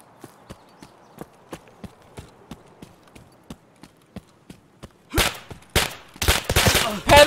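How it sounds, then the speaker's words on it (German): Sharp single shots crack at a steady, evenly spaced rhythm, then give way to loud, dense bursts of rapid gunfire in the video game Escape from Tarkov. "einzelne Schüsse rechts vor mir"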